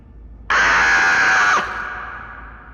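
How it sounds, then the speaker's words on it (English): A shrill creature scream plays as a sound effect in a tabletop game live stream set in a park: one loud, piercing, sustained shriek about a second long that cuts off abruptly and leaves a fading echo, with no talking. "makes an incredible scream."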